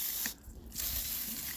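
Water from a hose attachment sprays onto the engine of a crashed Suzuki GSXR750 K7 track bike, a steady close hiss that drops away briefly before resuming.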